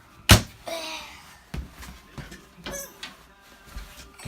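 Doors around an RV fireplace unit are shut, starting with a sharp, loud slam, then lighter thumps and knocks at irregular intervals, close by.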